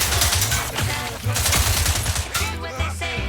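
Rapid automatic gunfire in The Outer Worlds 2 video game, dense bursts of shots layered over music and effects, loud and continuous throughout.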